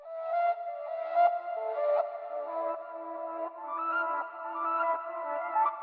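Reversed flute sample in a wavy trap beat, soft swelling tones that fade in and cut off, forming a looping melodic phrase with no other instruments prominent.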